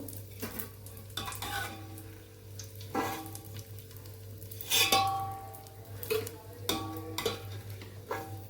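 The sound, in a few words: edible gum (gond) frying in hot ghee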